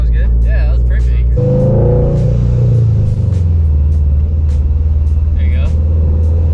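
A manual-transmission car accelerates under a learner driver, its engine rumbling loud and low inside the cabin and the pitch shifting as it picks up speed, with people talking over it.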